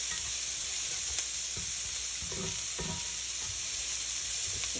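Red onions frying in a pan for a spicy egg fry, making a continuous close sizzle and hiss with a few soft stirring scrapes.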